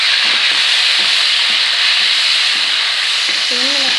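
Onions, tomatoes and green chillies are stirred in a frying pan for friendship rice, with a loud, steady sizzle throughout and soft spoon scrapes every half second or so, close up.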